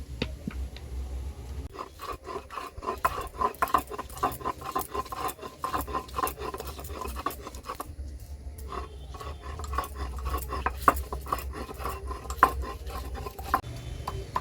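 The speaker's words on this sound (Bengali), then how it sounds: "আমি এখানে সিলে বাটছি" Small-cut mango pieces being ground on a stone grinding slab, a busy gritty rasping of stone on stone in rapid irregular strokes, close and steady, with no one speaking.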